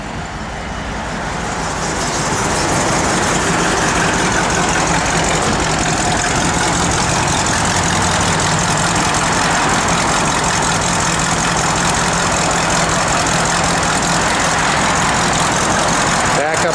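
A 1964 Buick Riviera's engine idles, a steady, full rumble that swells over the first couple of seconds and then holds constant and close, with no other distinct sounds.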